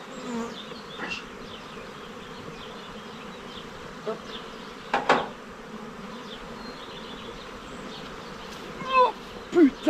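Honey bees buzzing around their hives during a spring honey harvest, a constant soft hum with individual bees zipping close past at intervals, louder passes near the end.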